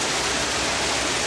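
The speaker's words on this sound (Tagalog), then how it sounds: "Ayan o, lakas ng ulan." Heavy rain pours down outdoors in a dense, steady hiss with no breaks or voices.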